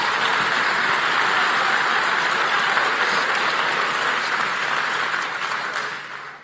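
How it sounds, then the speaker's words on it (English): A large crowd at a live tour event gives a round of applause, a dense continuous roar of clapping that holds steady and then fades toward the end. "Let's give them another round of applause"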